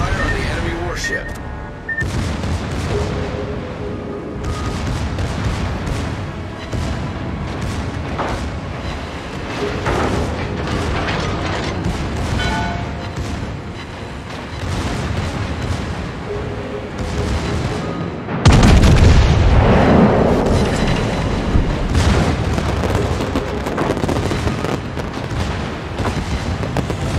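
Naval artillery fire and explosions in a warship battle video game, with repeated heavy booms and gun blasts over a constant rumbling battle bed, growing louder near the end, while voices speak throughout.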